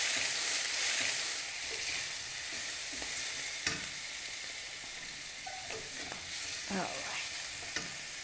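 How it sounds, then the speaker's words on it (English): Potatoes tossed with garam masala and turmeric in a pan over fairly high heat, giving a steady soft sizzle with scattered scraping and clacking strokes of a spoon, alone and fairly quiet. "And now I need to stir it around for a minute."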